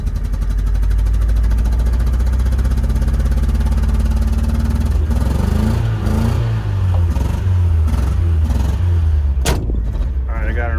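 A 2006 Chevrolet Cobalt LS running on E85 fuel, its engine idling steadily and then revving in several loud pulls, with clanks and a short burst of voices near the end.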